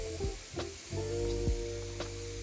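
Philly cheesesteak filling with mushrooms frying hard in a hot pan, a steady close sizzle with a few brief scraping stirs, alone without voices.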